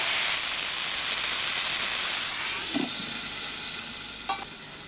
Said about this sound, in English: So we are going to finish the cooking by steaming.